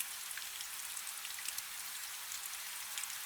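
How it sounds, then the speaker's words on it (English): Steady rain falling on ancient stone, a dense continuous hiss of drops with faint scattered patters, even and unbroken throughout. "the sound of rain on ancient stone."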